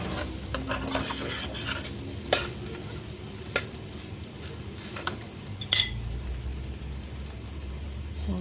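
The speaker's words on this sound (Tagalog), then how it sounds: "Halo-halo is the key para maging masarap ang fried rice" Fried rice being stirred with utensils in a pan, with steady sizzling and scattered sharp scrapes and clinks of metal against the pan at irregular intervals, close up.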